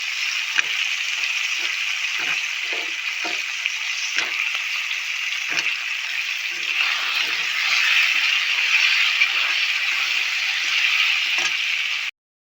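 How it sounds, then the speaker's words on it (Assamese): Potatoes and pork fry in a pan, a close, steady crackling sizzle with occasional scrapes and clicks of stirring, continuous until it stops abruptly at the end. "এতিয়া আলুখিনি দি অলপ সময় ভাজিম।"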